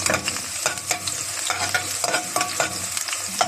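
Garlic fries in a pan while being stirred, giving a continuous bright sizzle broken by regular scraping strokes of a utensil, close and fairly loud, with no voices.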